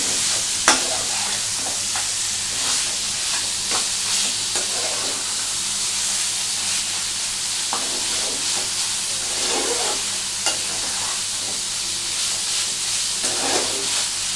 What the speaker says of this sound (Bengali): এটাকে একটু ভালো করে নাড়াচাড়া কিন্তু করতে হবে।